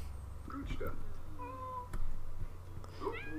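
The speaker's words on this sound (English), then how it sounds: "And Annika's cat is called Sydney." A pet cat in The Sims 4 video game meows several times, short clear calls spread across the moment, with a person talking quietly over them.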